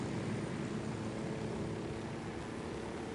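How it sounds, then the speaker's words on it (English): A helicopter in Ghost Recon, a faint, steady rotor and engine drone with a rough, broadband rumble, continuous and unchanging throughout. "I'm going to take a helicopter."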